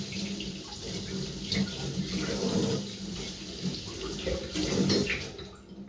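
Tap water runs steadily into a kitchen sink during cleanup, a continuous close splashing rush with small surges and no voices.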